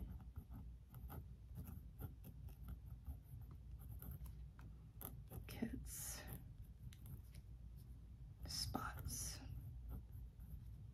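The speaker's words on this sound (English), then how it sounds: "Oh, I need to make sure to write this down." Pen writing on paper in a weekly planner: soft, close scratching strokes come in short intermittent runs, heard under quiet whispered talk.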